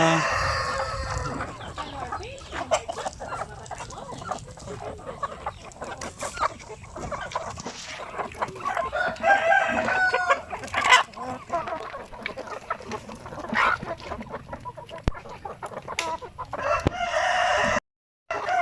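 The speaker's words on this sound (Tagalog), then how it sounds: "So ngayon, pakain tayo sa ating mga manok. Yan po sila." A busy flock of chickens clucking and squawking continuously at feeding time, with a rooster crowing now and then amid farmyard bustle.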